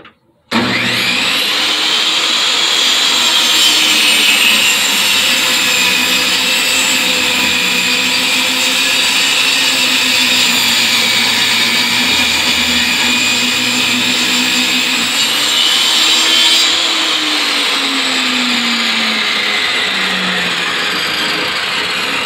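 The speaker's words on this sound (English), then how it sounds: "I'm going to take my router and bearing and go through and route in all of this to smooth it out" A router fitted with a bearing trims wooden ashtray templates, giving a loud, steady high-pitched whine that runs nearly unbroken for over twenty seconds, with slight shifts in pitch as the bit moves through the wood.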